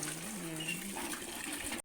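Water gushes steadily from a tap, close and continuous for a couple of seconds.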